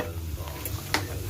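Chicken curry, made with curry powder and a splash of milk, re-frying in a pan: a steady close sizzle with soft stirring scrapes and a brief sharper clatter near the end, no talking.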